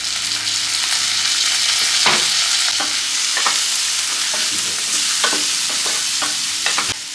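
Onions and tomatoes sauté in a pan for Tamil-style egg puff filling, a steady loud sizzle throughout with repeated scraping stirs of the spoon at irregular intervals, and no talking.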